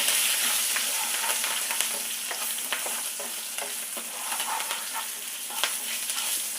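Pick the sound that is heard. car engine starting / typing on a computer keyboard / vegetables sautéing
vegetables sautéing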